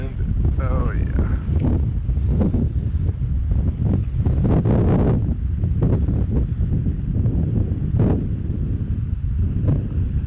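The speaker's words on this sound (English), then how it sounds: "that wind" Strong wind buffeting the microphone outdoors on a river while fly fishing, a constant loud low rumble throughout, with someone talking briefly over it.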